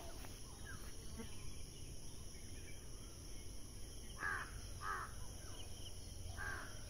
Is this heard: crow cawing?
yes